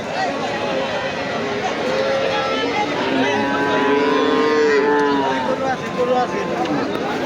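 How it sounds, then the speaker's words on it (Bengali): Cattle at a busy livestock market in Nandail, Mymensingh, lowing in long drawn-out moos amid a constant murmur of crowd voices and nearby talking. "অনেক সুন্দর এটা গরু"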